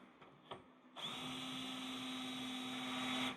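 Power drill fitted with a bearing-guided countersink bit cuts into a Sport quattro replica car body panel, a sustained steady whine starting after a second and running evenly close up, preceded by faint handling clatter.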